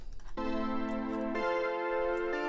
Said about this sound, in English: which are the CS80 replica made by Arturia, and they sound like this